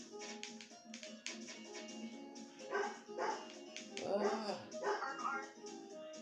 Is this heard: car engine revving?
no